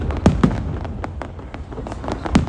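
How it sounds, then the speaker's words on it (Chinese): Low-altitude fireworks burst one after another, a string of sharp booms and crackles at middle distance, fairly loud and irregularly spaced with a rumbling wash between blasts. "因为那边有一些低空的烟花也很好看"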